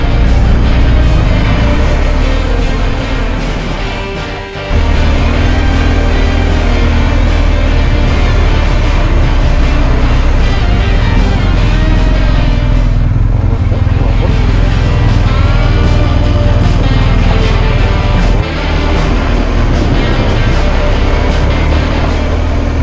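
A steady engine roar from a moving vehicle runs throughout, loud and close, with wind noise and a brief dip partway.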